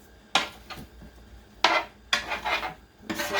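Parsley potatoes stirred in a pan with a utensil, giving a few sharp scraping clatters of metal against the pan between quiet pauses, close and clear.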